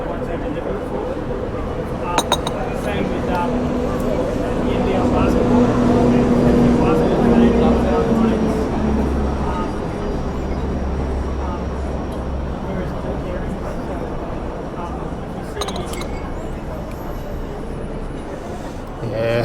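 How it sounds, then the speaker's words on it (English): Heavy buses rumble past a Sydney street cafe, a low engine drone swelling and fading through the clip with some background clatter, while people talk nearby. "Might be a bit noisy here with all the buses going past."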